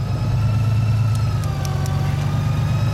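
Six-cylinder engine of a 2008 Honda Goldwing 1800 motorcycle idling close by, a smooth, steady low hum with a faint whine and a few light clicks over it.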